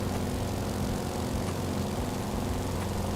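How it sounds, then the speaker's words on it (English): Steady, loud radial engine drone of a Beechcraft Model 17 Staggerwing biplane in Microsoft Flight Simulator, a constant throbbing roar with no pauses. "I know the engine's probably still a bit loud"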